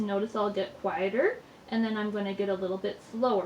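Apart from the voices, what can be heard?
None of the usual background noises is heard.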